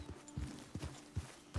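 Horse hooves clip-clop at a steady walking pace in Red Dead Redemption 2, four distinct low thuds spaced evenly, close and fairly quiet over a faint background hum.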